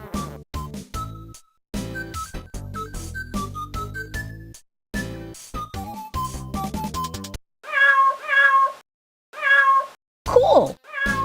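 Plinking game music plays first, then a cartoon cat meows three or four times in short separate bursts, in the 1995 point-and-click video game Chewy: Esc from F5.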